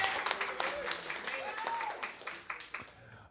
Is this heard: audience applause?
yes